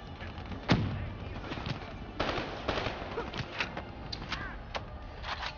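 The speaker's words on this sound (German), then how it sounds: "Hör doch mal auf zu schießen." Gunfire in the Call of Duty Black Ops 3 video game, a loud opening shot followed by scattered bursts and single shots, with people talking over the game action.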